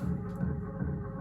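Looped sample playing back from an Akai S612 sampler fed by an Akai AX60 synth, a dense sustained low tone with steady harmonic layers repeating without a break.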